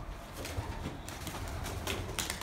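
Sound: pigeons cooing in an abandoned slaughterhouse

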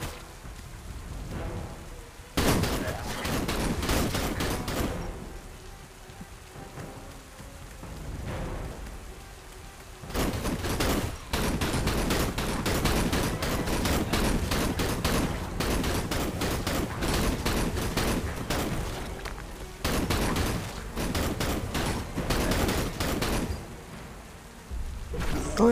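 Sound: gunfire shooting zombies, from the video game Lost in Blue

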